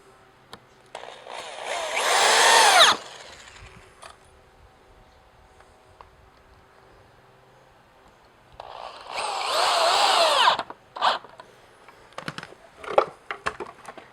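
A power drill drives screws into wooden pallet boards in two loud, whining bursts of about two seconds each, separated by quiet, followed by short clicks and brief tool handling noises.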